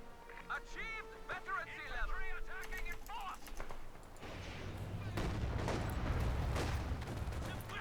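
Machine gun fire in Company of Heroes 2, with dense rattling bursts in the second half building into a steady din under a commentator's voice, after scattered battlefield effects.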